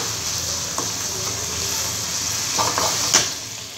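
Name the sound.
chilli powder and hing stirred into frying tempering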